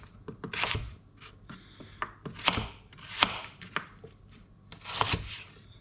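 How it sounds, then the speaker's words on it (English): Knife chopping skin-on carrots into battens on a board: a quick, uneven series of close, crisp thuds and taps, some clustered, others spaced out. "And then just cut these, again, skin on the carrots, and then just cut these into battens."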